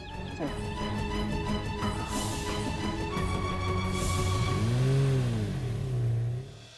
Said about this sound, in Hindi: गाड़ी शुरू कर।